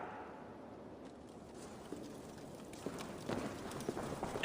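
Horse hooves clip-clop steadily in the Assassin's Creed Valhalla video game, faint at first and growing closer and more distinct, with no talk.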